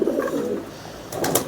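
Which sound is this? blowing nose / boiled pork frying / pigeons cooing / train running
pigeons cooing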